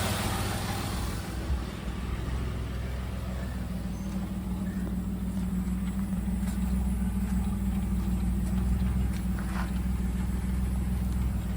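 A 1996 fourth-generation Chevy Camaro convertible with a 3800 V6 idles steadily, a low continuous hum that stays even throughout with no talking.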